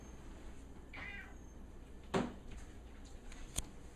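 A very large house cat gives a short, faint meow, followed by a sharper, louder cry and a brief click, in a quiet room.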